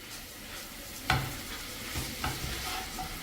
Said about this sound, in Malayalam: ഇനി വീണ്ടും നന്നായിട്ട് മിക്സ് ചെയ്തിട്ട് ഒരു മൂന്ന് മിനിറ്റ് ഈ ഒരു രീതിയിലൊന്ന് ചെയ്തെടുക്കുക